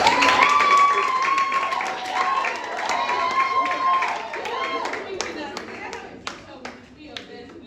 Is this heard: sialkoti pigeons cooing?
no